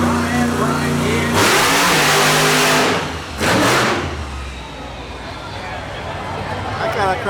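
A Chevy monster truck with a 557 cubic inch engine burning alcohol, revving at a monster truck show in Plattsburgh, New York: loud roaring throttle bursts and surging revs under an announcer's voice and crowd noise.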